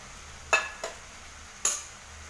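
A spoon stirs kaathoran curry after a splash of coconut oil, giving three quick scraping clinks against the pan over a faint low background, with no voices.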